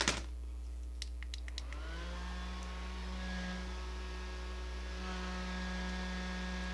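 An electric fan switches on with a brief click and spins up, settling into a steady close whirring hum with a clear motor drone that runs on evenly and unbroken.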